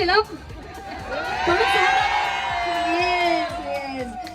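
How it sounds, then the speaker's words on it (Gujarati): A wedding crowd at a sangeet evening shouts, whoops and cheers together in a loud, sustained roar of voices close by. "Come on, make sum noise. ચિલ્લાવો"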